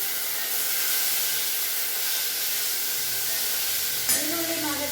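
Onions are dropped into tempering oil with browned chana dal for brinjal sambar, giving a steady, close, loud sizzling hiss. A brief clatter comes near the end.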